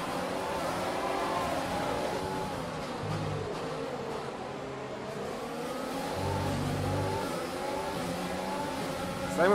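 F1 cars in the F1 2020 video game at the Azerbaijan Grand Prix race start, engines droning and revving at a moderate level with rising and falling pitch sweeps while a commentator talks over them.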